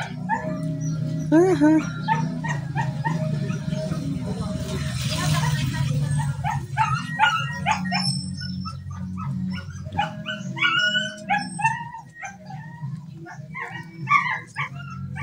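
A dog yips, whimpers and gives short barks in a home where laundry is being done, with frequent talking from a person nearby throughout.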